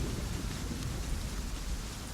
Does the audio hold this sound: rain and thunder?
yes